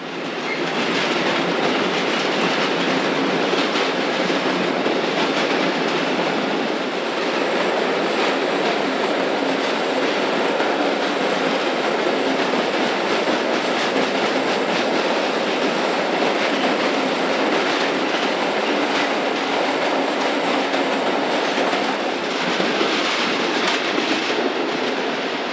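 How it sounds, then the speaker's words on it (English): Slovenian Railways Taurus electric locomotive 541007 hauls loaded hopper wagons out of a station on a single-track section, its steady loud rumble and wheel clatter continuing close by throughout with no talk. "Slovenian Railway's Taurus Electric number 541007, departing the station on the afternoon of the 10th of May 2015, with loaded hoppers from Germany."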